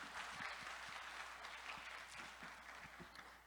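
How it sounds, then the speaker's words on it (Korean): An audience at an electrical engineering conference opening ceremony applauds steadily, a dense wash of many hands clapping throughout, fairly loud and continuous. "큰 박수 부탁드리겠습니다"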